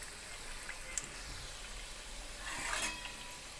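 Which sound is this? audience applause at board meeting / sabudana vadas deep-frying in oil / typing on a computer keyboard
sabudana vadas deep-frying in oil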